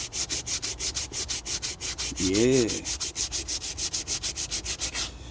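A wooden stick with its surface fuzz burnt off is sanded by hand in quick, steady back-and-forth strokes, close and even. Someone briefly says a word midway.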